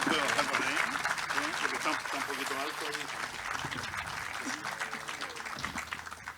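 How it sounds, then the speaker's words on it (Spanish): Audience applause at a Chilean union commemoration event, a steady wash of clapping from a crowd running the whole stretch while a few voices and music carry on underneath. "Repitamos ese aplauso, por favor, para nuestros dos grandes artistas."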